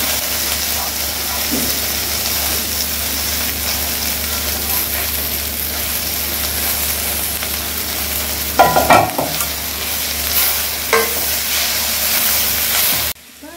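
Banana flower and drumstick leaves stir-fried in a pan for poriyal, a loud continuous sizzle with stirring scrapes and a few louder clatters toward the end.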